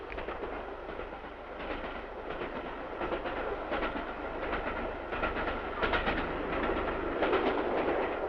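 The Elizabethan Express passenger train runs on rails with a steady, loud rolling roar, rhythmic clickety-clack of wheels on rail joints sounding repeatedly throughout, close and continuous with no voices.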